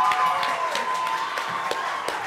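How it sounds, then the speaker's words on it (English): Steady audience applause at a football club awards ceremony, a continuous wash of clapping with sharp individual claps standing out, fairly close and alone without talk. "So a round of applause for the hard work of Alex Bayliss."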